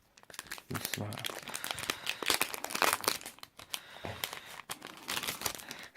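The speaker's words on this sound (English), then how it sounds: "That might be the majority of this video is me just trying to open a packet" A plastic trading card pack wrapper for OPUS cards crinkles and tears in close, loud bursts as it is pulled apart by hand, with uneven rustling and short pauses between the tugs.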